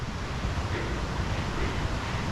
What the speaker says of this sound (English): So I'm hearing a creek or a river here.